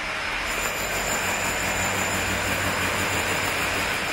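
Reconstruction building sites in L'Aquila give off a steady dense wash of machinery noise with a continuous low rumble and high whine, loud and unbroken with no voices.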